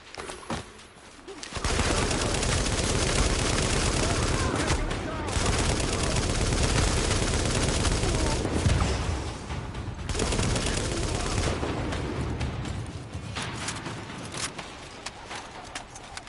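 Sustained gunfire from a firefight in The Division, a dense, loud fusillade of automatic shots that starts after a quiet opening second and runs almost unbroken, with brief lulls and voices mixed into the din.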